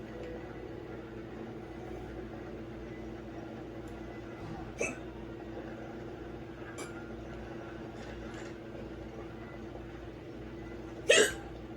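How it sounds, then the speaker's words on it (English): A person hiccups twice, several seconds apart: a soft one early on and a sharper, louder one near the end, each a short isolated gulp over a steady low hum with no talking. "Oh, yay, I got the hiccups."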